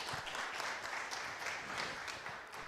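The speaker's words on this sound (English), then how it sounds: "Please clap for yourselves." Room audience at a climate change panel conference in Tanzania clapping, a steady, fairly loud wash of many hands that runs continuously and evenly from start to finish.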